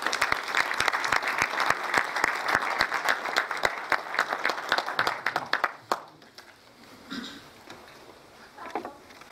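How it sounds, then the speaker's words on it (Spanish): Applause from a large audience at a cultural tribute evening in Arequipa, dense steady clapping that fades after several seconds into quieter room noise with a few scattered claps. "la licenciada Melina Gamarra del Castillo, a quien ya recibimos con fuertes aplausos."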